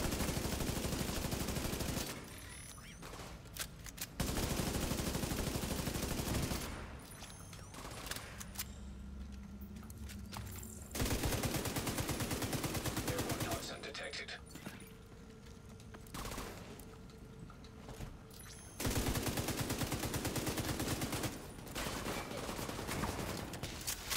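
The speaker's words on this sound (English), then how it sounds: "we're taking 50 caliber bullets like it was nothing" Heavy .50 caliber gunfire in Tom Clancy's The Division 2 comes in loud, dense bursts that alternate with quieter gaps of scattered shots and mechanical clatter over about twenty-four seconds.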